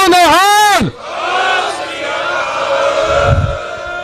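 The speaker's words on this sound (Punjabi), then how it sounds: "ਇਸ ਲਈ ਬਸ ਜੈਕਾਰਾ ਬੁਲਾ ਦਿਓ ਇੱਕ ਵਾਰ" A large crowd at a Sikh protest gathering in Mohali roars a jaikara war cry in unison after a single voice leads it off, a loud, swelling collective shout that rings on and then fades.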